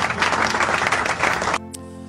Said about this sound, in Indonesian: Kita berikan tepuk tangan yang terbaik untuk Tuhan Yesus.